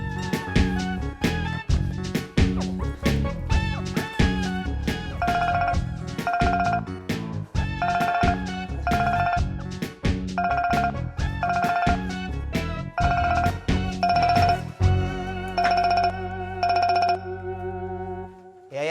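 A telephone ringtone plays as a repeating melodic tune with a steady rhythmic beat, loud and close, its phrases recurring many times before fading into a sustained tone at the end.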